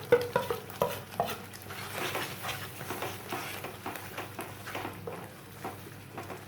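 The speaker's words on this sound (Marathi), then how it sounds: "हे सगळे मसाले आपण यामध्ये घालून देणार आहोत" Spices being stirred into a frying onion-tomato paste for dhaba-style paneer masala, with a spoon scraping and patting through the thick mixture in a steady rhythm over a faint sizzle, close and fairly soft.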